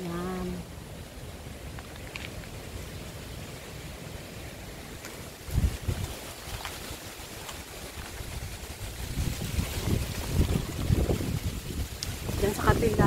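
Strong wind roars and buffets outdoors around a fruit garden with banana and dragon fruit plants, with continuous gusting microphone noise that grows louder toward the end, while someone talks over it.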